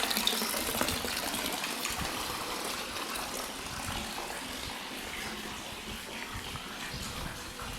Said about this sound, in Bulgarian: Открих една чешмичка, от която не съм бил.